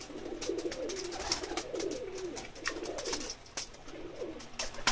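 Sialkoti pigeons coo in soft, repeated low murmurs, close by, with light rustling and faint higher chirps scattered through.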